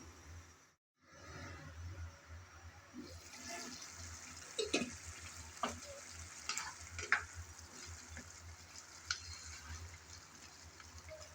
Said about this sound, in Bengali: আবারও কিছুক্ষণ পর এসে ঢাকনা উল্টিয়ে নেড়েচেড়ে মিশিয়ে নিলাম